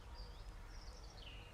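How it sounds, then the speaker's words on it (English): Faint birdsong drifts in from outdoors on an evening, thin high chirping phrases over a steady low background rumble, distant and gentle with no one talking. "That beautiful bird song."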